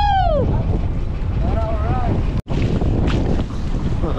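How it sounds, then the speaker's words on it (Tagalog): Strong wind and rough waves buffet a small boat at sea during a lobster fishing trip, a loud continuous roar with heavy wind noise on the microphone, while a person's voice calls out briefly near the start. "Ang lakas ng alon."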